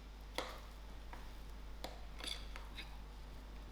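Faint clinks and taps of a spoon working spring onions into chicken and mashed potato in a kitchen pan, a few sparse, soft knocks over a quiet hum with no talking.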